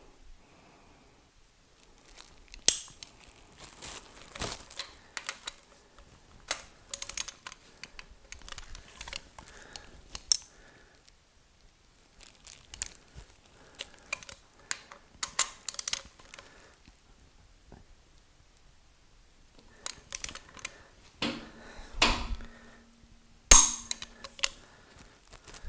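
Wrench torquing bolts to final torque on an Olds 455 engine build, sparse sharp clicks and snaps scattered among quiet rustles and metallic handling, close and intermittent with silent gaps.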